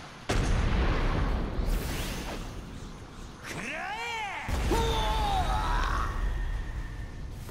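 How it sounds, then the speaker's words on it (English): Spirit Bomb attack in the Jump Force video game, a loud sustained blast with rushing energy and sweeping tonal effects, continuous for several seconds. "Spirit bomb."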